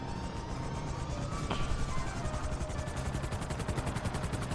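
Rapid, rhythmic whump of helicopter rotor blades in GTA Online with a steady mechanical drone, fairly close and continuous, a brief clatter near the middle.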